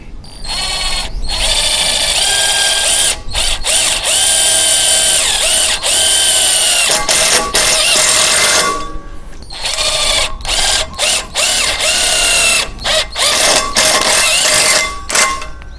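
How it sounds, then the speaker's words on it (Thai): Loud, close whine of an IMAX IMIS-12v cordless impact driver running in long bursts, rattling as it hammers self-drilling screws, with brief stops between runs. "เดี๋ยวมายิงเข้ากับสกรูหัวสว่านแบบนี้นะครับ สกรูป ลายสว่าน"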